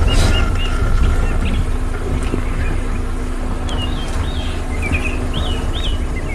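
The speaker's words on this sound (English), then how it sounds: "Oh, just listen to the birds this morning." Several birds, including dark-capped bulbuls, chirp and whistle in short phrases on a morning safari, over a steady rumble of wind and distant engine noise.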